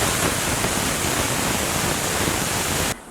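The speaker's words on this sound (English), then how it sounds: "we are waiting for the pressure cooker to release steam" A pressure cooker, boiling matumbo in water, vents steam in a loud, steady broadband hiss that holds for about three seconds and then cuts off abruptly.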